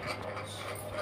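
A dog panting near a bus stand, soft rapid breathy huffs that come through faintly against steady background noise.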